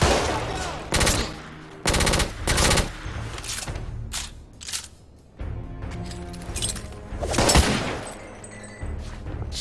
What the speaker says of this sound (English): I suck at shooting.